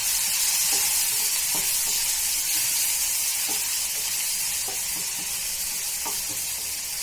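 Finely chopped onion sizzles steadily in a hot pan while being stirred for a spiced potato dish, a loud continuous frying hiss with periodic scraping stirs and no talk.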